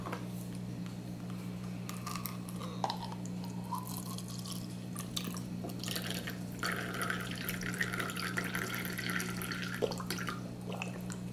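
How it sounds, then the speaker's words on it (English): Fauna Marin trace element liquid poured into a one-gallon jug of alkalinity solution, a soft continuous trickle with small dripping splashes and faint handling sounds over a low steady hum. "So we're going to go ahead and pour 30 milliliters in here"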